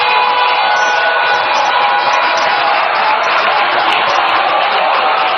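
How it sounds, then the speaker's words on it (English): A large crowd at a Ghanaian party manifesto launch claps and cheers steadily for the Speaker of Parliament, a dense, unbroken wash of applause that stays loud throughout with no voice on top. "Ladies and gentlemen, a rousing round of applause for the Right Honorable Speaker of Parliament, Alban Sumana Bagben."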